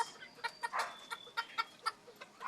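A bantam chicken kept indoors clucks in a quick series of short, soft calls with uneven spacing, fairly faint and close, with no talking.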